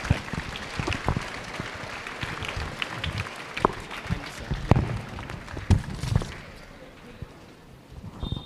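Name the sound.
audience clapping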